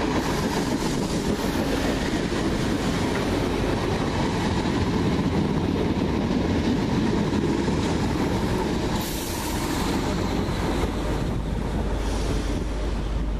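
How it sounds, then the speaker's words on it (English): A First Capital Connect passenger train to Stevenage runs into Alexandra Palace station, a steady, fairly loud rumble of rolling stock that holds for the whole stretch under wind buffeting, with no talking. "It's coming in the 1608 First Capital Connect service to Stevenage via Hartford North."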